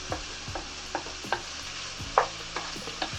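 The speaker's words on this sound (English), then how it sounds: "Give everything a stir and let the vegetable soften." Vegetables being stirred in a pot while cooking chicken sopas, a Filipino creamy soup, with a utensil scraping and knocking about once every half second against a soft sizzle, close and fairly quiet, with no talking.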